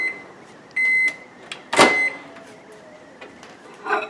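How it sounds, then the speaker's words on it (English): Microwave oven set for 1 minute 30 seconds while heating a keto cheddar mug biscuit: a few sharp electronic beeps, including one long tone, and a door clunk, close and fairly loud with a low hum beneath. "we're going to do 1 minute and 30 seconds in the microwave"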